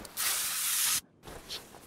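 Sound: spray can spraying, from video game Car Mechanic Simulator 2021

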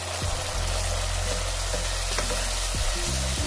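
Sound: frying masala with green chilies

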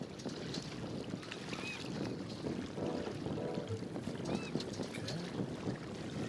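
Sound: boat sailing on water in video game Big Breezy Boat

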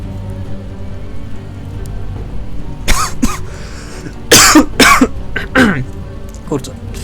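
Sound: persistent coughing

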